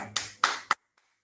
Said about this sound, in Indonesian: boleh tepuk tangan buat Anda semua.